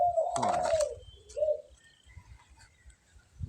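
A spotted dove coos softly in a short low phrase, followed by a brief second coo, amid faint background rustle.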